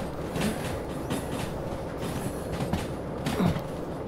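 A train rolls along rails in a VR video game, a steady low rumble with soft rhythmic clatter of the wheels, moderately loud and continuous.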